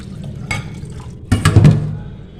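Fish-washing water splashes out of a container into a drum on a rooftop garden, a short close gush after a quieter clatter, then tapering off.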